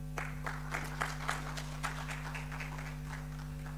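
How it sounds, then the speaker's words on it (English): An audience applauds the Governor of the Bank at a public lecture on Namibia's oil and gas, scattered claps at first, then thinner, distant and faint over a steady electrical hum. "another round of applause to the Governor of the Bank, please"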